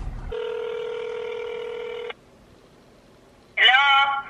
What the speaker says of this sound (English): I'm going to call her on the phone, okay?